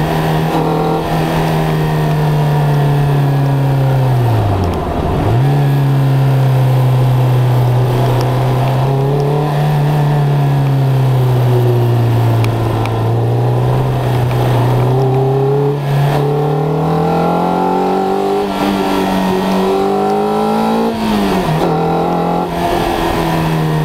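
Lotus Elise with a rough K-Series four-cylinder engine being driven hard, a loud, close, continuous engine drone rising and falling in pitch as it revs through gears, with no talk over it.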